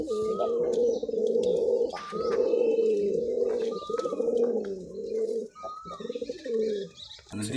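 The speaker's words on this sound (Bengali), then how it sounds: "এই আর একটা কবুতর" Giribaz racing pigeons at a loft in Rajshahi, heard close up: continuous throaty cooing in rolling phrases with brief pauses, some faint chirps in the background and no talk.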